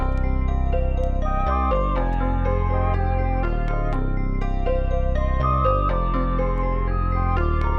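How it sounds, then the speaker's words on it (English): A dense, looping hip hop beat sample with deep bass and layered melodic notes plays steadily and loud, no drums or voices evident. "we're left with a very unique loop that sounds like this"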